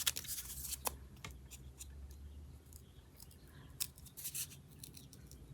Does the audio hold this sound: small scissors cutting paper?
yes